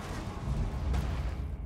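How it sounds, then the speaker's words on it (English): Cannon artillery fire rumbles in the Total War: Warhammer video game, a low, muffled boom with a rolling tail and a brief sharper crack midway, heard without talk. "All that cannon was gonna shoot me up."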